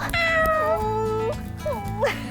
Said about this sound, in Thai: ที่นี่นะคะพนักงานต้อนรับของเขา เป็นน้องแมว